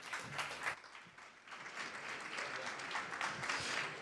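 A conference audience at a startup pitch event applauding, a continuous wash of clapping heard from within the room, moderate in volume and without a clear rhythm.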